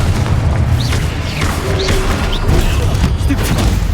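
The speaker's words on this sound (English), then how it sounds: "Confringo!" A Confringo spell fired in Hogwarts Legacy during a loud fight, with thumping booms, whooshing streaks and rapid impacts over a continuous roar of battle noise.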